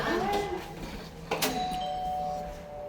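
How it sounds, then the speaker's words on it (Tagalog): A doorbell chimes with clear ringing tones, followed by a second brighter ding, heard indoors over faint background noise. "Doorbell."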